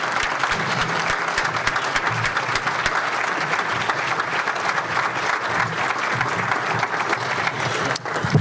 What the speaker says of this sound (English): Let's give them a round of well-deserved applause.